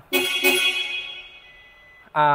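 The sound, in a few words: car horn honking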